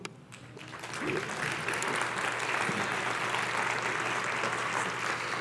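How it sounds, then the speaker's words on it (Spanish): Audience applause at a Spanish-language gathering, building quickly after a brief start into a dense, sustained clapping that stays steady and fairly loud throughout. "Vamos a darle un aplauso."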